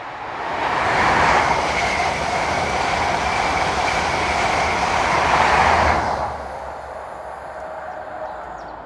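Passenger train headed by two locomotives, 43174 and 43078, heading west on a Paddington to Penzance service, roaring past loud and close for six seconds before the noise drops away to a quieter rumble.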